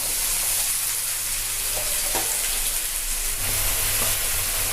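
Chopped onions hit hot oil with fennel seeds in a pan for prawn sambal, producing a dense, even frying hiss that holds steady and close throughout, with faint stirring clicks and no talk.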